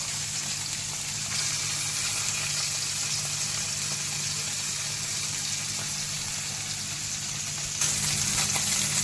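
Small fish fry in a village kitchen wok over a low flame, a steady, dense sizzle that stays close and continuous throughout with no voices.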